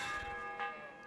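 Town bell ringing in the video game Kingdom Come Deliverance, a fairly faint resonant bell tone with a lingering hum and a second strike midway through.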